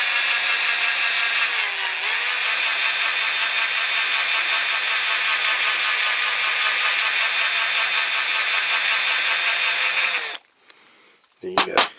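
A drill bores out a rivet on a Dinky Toys MG Midget model car, a loud, steady high-pitched whine held for about ten seconds with a brief dip in pitch, then stopping abruptly before a few small clicks.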